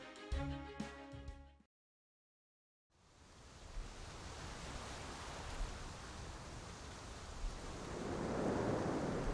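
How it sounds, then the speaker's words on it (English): A strong gust of wind roars in the Fate/Grand Order game after a short tonal jingle and a brief silence, steady and loud, swelling louder toward the end. "Yikes, that's a strong wind."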